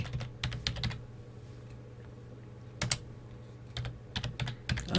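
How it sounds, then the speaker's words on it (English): Quick bursts of clicky keystrokes on a computer keyboard, entering a short text prompt in Photoshop, tapping in irregular clusters with brief pauses, close and fairly quiet with no talking. "I type in wooden fence"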